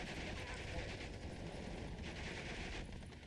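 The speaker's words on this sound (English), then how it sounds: "so I call in mortar fire in their position." Continuous rattling gunfire and explosions in a World War II Normandy strategy game as mortars are called in, dense and steady throughout with no voices.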